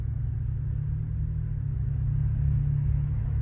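A 1999-2006 Chevy Suburban or Tahoe V8 with a muffler delete and a new catalytic converter idles steadily, with a deep, even low rumble close by and no rattle or voices.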